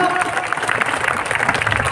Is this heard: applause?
yes